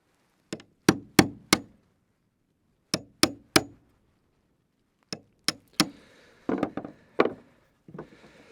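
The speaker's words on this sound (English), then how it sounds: "Hammer and chisel. Chisel that out." Hammer blows on a chisel cutting out wood at an off-grid build site in Africa, sharp knocks in groups of three, then a busier burst of chopping and scraping strikes, close and loud.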